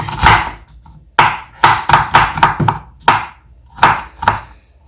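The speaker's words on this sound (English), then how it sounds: "So I'm going to go ahead and chop my onions into like little bits." A knife chops onions into small bits on a cutting board, a quick irregular run of sharp, close knocks with short pauses between bursts, and no voices.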